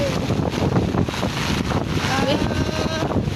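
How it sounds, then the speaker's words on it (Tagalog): Strong wind during heavy rain in Ortigas roars steadily against the microphone, a constant dense rushing noise that never lets up, with faint tones flickering underneath. "Maulan to dahil ang lakas ng hangin."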